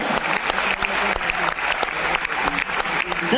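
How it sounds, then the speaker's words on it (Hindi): Audience applause at a Holi-season humorous poetry gathering, a dense, continuous burst of many hands clapping in a hall, loud and sustained with faint voices mixed in. "ताली अगर मिलकर बजा दीजिए, मैं शुरू होगा।"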